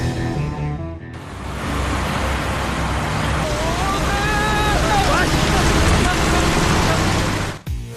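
A real car drives past outdoors, recorded for a foley scene: a broad roar of engine and tire noise swells in after a short pause, with faint squeaky tones riding over it, then cuts off abruptly.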